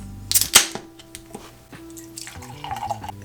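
Beer poured into a glass, with a sharp splash and gush at the start followed by gentle fizzing, dripping and trickling as the foam settles, close and fairly quiet.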